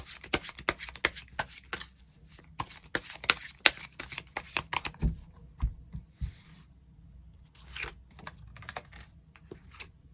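Tarot cards being shuffled by hand during a love reading, a rapid run of soft papery flicks and riffles, close and fairly quiet, with a pause and a few scattered slaps and rubs near the end, no talking.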